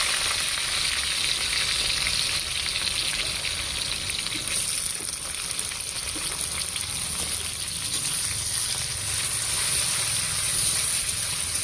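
Onions frying with whole spices in a pan give a loud, continuous sizzle close by, broken now and then by faint stirring, with no one talking.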